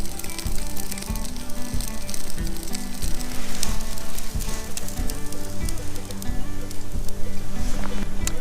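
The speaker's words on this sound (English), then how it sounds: "I started barbecuing my steaks" Steaks sizzle and spit steadily over an open campfire, a constant crackling hiss with a faint low hum underneath.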